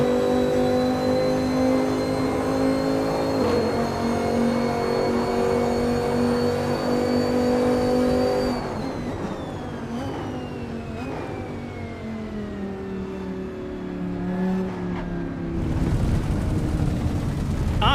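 A sound-modded racing game car engine at VIR drones steadily at high revs, then shifts down and winds back up, loud and continuous with no talking.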